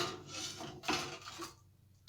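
Two metal spatulas scrape against a very hot cast iron frying pan in a few short rasping strokes, close and fairly loud, ending with a sharp clank.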